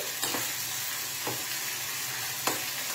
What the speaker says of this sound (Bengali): দেখো, এই যে পেঁয়াজটা আমি ভাজতে বসিয়ে দিয়েছি।